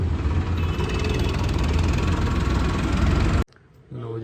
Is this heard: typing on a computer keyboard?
no